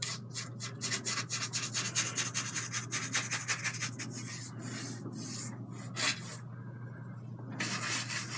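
A fan brush scrubs burnt umber mixed with medium across a canvas in rhythmic rubbing strokes, steady and close, with no talk.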